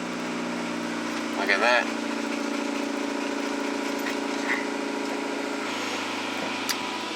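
A Honda Civic EG hatchback engine idles steadily after catching, a close, even mechanical drone that runs throughout, with a brief clatter early on and a voice speaking briefly over it.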